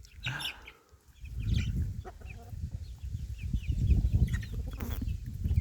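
Hybrid coop hens and their chicks cluck and cheep steadily during feeding, with a dense low murmur of fowl close by and sharp higher chirps from the chicks scattered on top.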